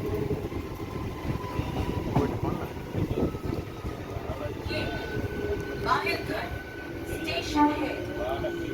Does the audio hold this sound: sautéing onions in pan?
no